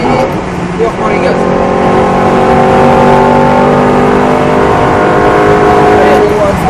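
Car accelerating on a race track, the engine note rising in steady harmonic bands and holding loud and close from start to finish, with an instructor's voice breaking in over it.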